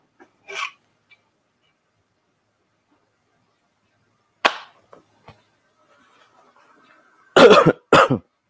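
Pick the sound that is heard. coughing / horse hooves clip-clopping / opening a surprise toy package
coughing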